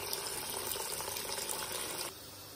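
Running tap water splashes over fresh mint and coriander leaves in a kitchen sink as they are washed for tamarind-mint chutney, a steady broadband rush for about two seconds before it drops to a quieter trickle.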